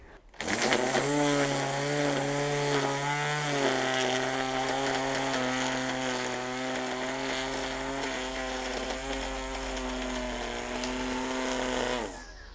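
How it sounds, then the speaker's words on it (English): A Ryobi edger trimmer runs steadily at high revs while edging garden corners, a loud buzzing whine that holds its pitch with slight wavering, starting abruptly and cutting off near the end. "how you do the edges on the garden with a specialized system from Ryobi"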